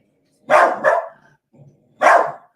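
Close indoor dog barking: a quick pair of loud barks, a faint low huff, then one more sharp bark.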